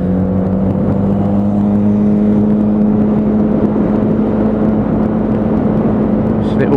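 Lexmoto Aura motorcycle with the throttle opened, its engine holding a loud, steady drone with a rising hum as it accelerates, heavy wind and road rush blended in throughout.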